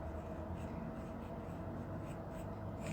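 Writing on a board for a class 10 maths lesson, heard as steady, continuous scraping strokes that are close and fairly quiet over a constant background hum.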